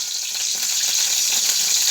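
Cumin and mustard seeds sizzle in hot oil with a loud, steady, close crackling hiss, uninterrupted and alone.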